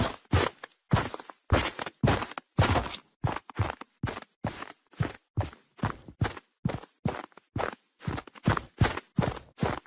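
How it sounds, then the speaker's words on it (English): Footsteps crunch through snow in the Fortnite video game, a steady run of about twenty crisp, close steps with short gaps between them and no talk. "the addition of a snow footstep sound file added to the game"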